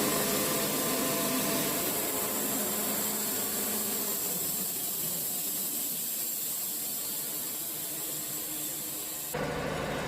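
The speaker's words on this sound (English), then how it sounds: "We're going to make our first cut, try to get a clean face on the log." Sawmill blade cutting a crooked salvaged hickory log, a steady loud whirring, hissing roar that holds for about nine seconds before dropping away.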